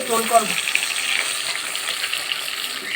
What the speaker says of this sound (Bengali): এক এক করে মাছগুলি ভেজে নিই আলু দিয়ে